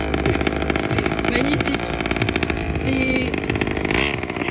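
A hybrid vehicle, half quad and half motorcycle, revs its engine at a drift event, a loud buzzing rasp that rises and falls close by, while someone speaks briefly over it.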